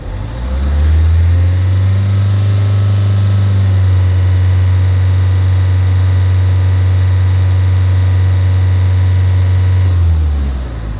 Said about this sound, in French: Le testeur me demande de faire monter la vitesse moteur à 2500 tours minute pendant au moins 5 secondes.